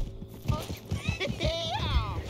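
A horse's hooves clip-clop in a steady walking rhythm in the video game Red Dead Redemption 2, close and moderately loud, with someone talking over the hoofbeats.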